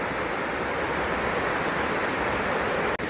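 Water rushes steadily down a woodland stream in a forest, a loud, continuous broadband roar close by with no break except a brief dip near the end.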